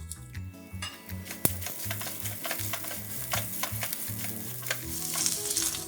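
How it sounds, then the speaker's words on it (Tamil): Small pieces of coconut sizzle in a hot pan for a Chettinad mutton kulambu, with a utensil stirring and scraping against the pan in an uneven rhythm, close and steady. "தேங்காய் சும்மா லேசாக ஃப்ரை ஆனால் போதும்."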